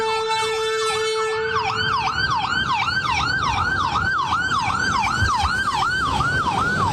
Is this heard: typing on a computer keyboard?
no